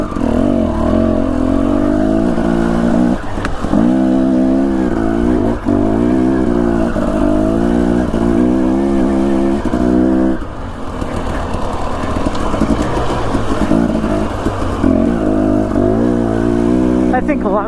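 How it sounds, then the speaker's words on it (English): A dirt bike engine revs along an Idaho trail, a close, continuous buzzing drone with rising and falling pitch sweeps as the throttle changes, briefly dipping before picking up again, with a rider's voice talking over it. "my bike isn't very loud, and it doesn't put out very much exhaust."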